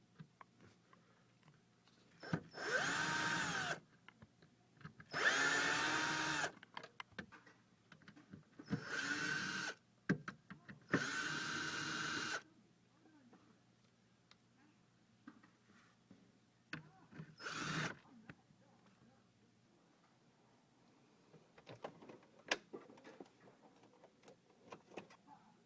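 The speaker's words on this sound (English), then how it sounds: "So I'm going to use my drill." A power drill runs in four loud bursts of a few seconds each, then one short burst, with quiet pauses and faint clatter between them, during a Land Rover window control unit repair.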